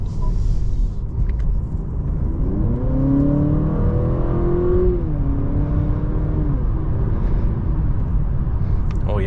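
A 2024 Honda Accord Hybrid driving on the road, heard from inside the cabin as a steady low rumble of road and tyre noise with a rising and falling engine or motor whine, loud and continuous throughout.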